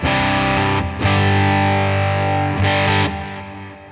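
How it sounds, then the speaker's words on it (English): Electric guitar played through a Headrush MX5 multi-effects unit with a subtle but long bucket brigade delay, heard as sustained, distorted chords that ring on with soft repeating echoes, loud and close with no talking. "Over here I've got my Bucket Brigade delay, set to a pretty subtle but quite a long delay."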